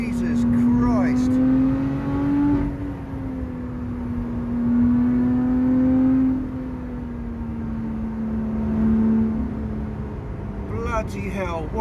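A Lotus Exige 410 Sport engine revs and accelerates loudly and close, its pitch rising and settling through several gear changes, with brief talk at the start and end.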